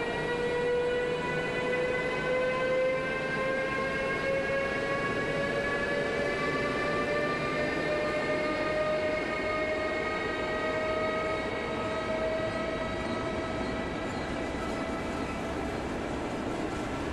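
EuroCity train hauled by a Vectron electric locomotive pulling out of Dresden toward Prague, a steady rumble with a rising electric motor whine that climbs slowly in pitch over the whole span.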